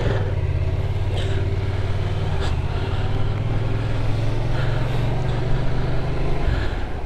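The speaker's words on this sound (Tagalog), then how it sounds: "Medyo malamig pa yung makina." Cold motorcycle engine running on a morning ride, a steady close low hum with faint passing traffic behind it, and the pitch dropping slightly near the end.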